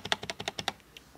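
Enter key on a Royal Kludge RK84 wireless 75% mechanical keyboard pressed about eight times in quick succession, crisp close clacks, then one fainter tap after a short pause.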